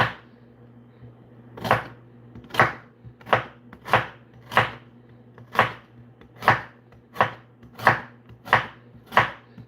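Carrots chopped on a cutting board for homemade pickles, a steady series of about a dozen crisp knife thunks at an even pace, close and clear with no talk.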